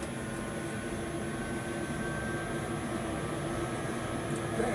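Jet engines of a Boeing 737-800 in a professional flight simulator at takeoff thrust, a steady broadband roar with a thin high whine, continuous and even throughout.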